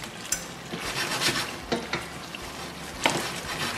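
Potato slices cooking over medium-low heat in a pan for Spanish tortilla, a gentle sizzle broken by several scraping stirs and clinks of a utensil, close and moderately quiet.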